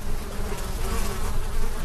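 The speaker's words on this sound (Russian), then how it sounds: "полчища мух, от укуса которых зудит кожа" A dense swarm of flies buzzes close and loud around homes with emaciated domestic animals in the Slavianoserbsk district of the LNR, a continuous droning whine with no talking.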